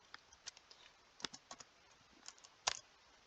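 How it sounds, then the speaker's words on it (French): Quiet keystrokes on a computer keyboard as a number is entered into a pricing spreadsheet, a few scattered soft clicks with one sharper tap near the end, close by with no talking. "Et ben il suffit de taper 20 kilos."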